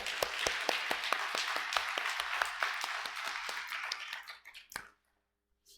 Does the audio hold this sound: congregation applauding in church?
yes